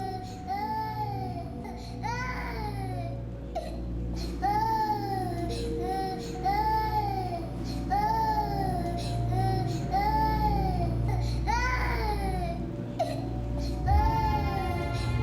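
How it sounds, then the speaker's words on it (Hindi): An infant cries in a domestic scene from a TV drama, repeated rising and falling wails in a steady rhythm, loud and continuous over a constant low background hum. "तुम्हारा बच्चा रोता बहुत है।"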